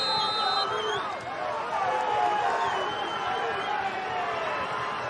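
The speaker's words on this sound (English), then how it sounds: "Crowd here really getting into this shootout" Stadium crowd roaring throughout a soccer penalty shootout, a dense sustained wash of cheering and chanting with no clear individual voices.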